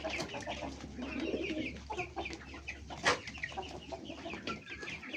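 Roosters kept alongside ducks in a pen call out in a busy mix of clucks and short crowing bursts, fairly close, with one sharper loud call standing out midway.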